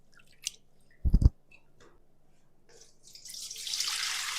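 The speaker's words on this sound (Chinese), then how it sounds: "洗米的时候啊，给它搓一搓，这样做出来八宝饭啊才能白亮。" Glutinous rice for eight-treasure rice being washed and rubbed by hand in a bowl of water: a few soft, scattered splashes and wet squishes, then a steadily building rush of water toward the end.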